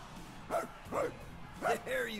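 A dog barks in Marvel's Guardians of the Galaxy video game, with several short barks and yips spaced across the moment, clear and fairly close, mixed with voice-like sounds.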